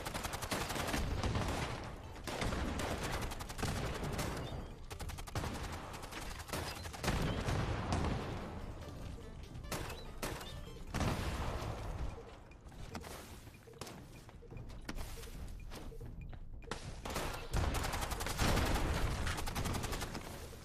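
Grenade launcher blasts and gunfire in the game Fallout 76, including shots at a flare and point-blank launches, forming a dense, continuous barrage of loud bursts and booms that runs throughout without pause.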